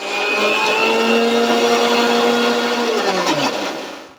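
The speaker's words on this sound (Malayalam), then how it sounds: "ചെറിയ ജാറിലിട്ട് നമുക്ക് നല്ലപോലെ അരയ്ക്കണം" A mixer grinder's small jar whirs steadily while grinding masala for dried fish theeyal. The loud motor whine holds for about four seconds, then slows and winds down as it switches off.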